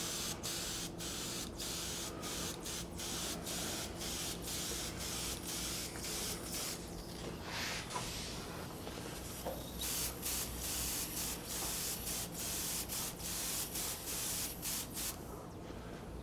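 A steady hiss of an inexpensive single-action spray gun spraying lacquer about 6 inches from the surface, broken into short bursts and longer passes, close by with a constant background hum.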